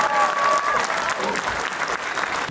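A film audience applauds after a screening, a burst of many hands clapping close and lively, with a whistle-like tone and voices mixed in.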